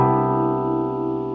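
A held synth-like chord sounds alone, steady and sustained, its layered tones ringing evenly for over a second before easing slightly.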